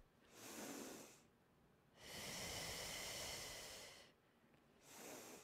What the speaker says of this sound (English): I'm breathing in through the nose